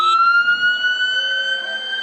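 An ambulance siren from a Dublin depot during a strike blares loud and steady, a sustained high wail holding a constant pitch throughout.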